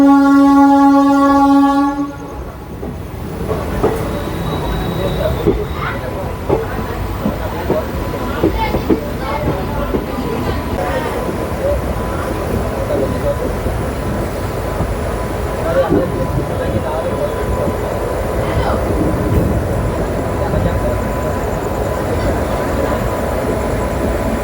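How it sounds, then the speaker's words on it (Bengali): Puri special train number 02837 pulls out of Santragachi station, opening with a long blaring horn, then a steady rumble and rhythmic clatter of the wheels building as it departs, with faint voices around. "তো চলুন এবার আপনারা ডিপারচারটা দেখুন।"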